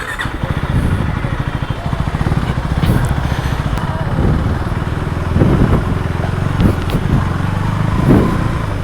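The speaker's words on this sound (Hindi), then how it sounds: "अपन रेडी हो चुके हैं बाइक की टेस्ट ड्राइव लेने के लिए, चला के देखता हूँ।" An orange KTM Duke 390 motorcycle running on a first test ride, its engine thrumming steadily with rhythmic pulsing and a few revving surges throughout, fairly loud and close.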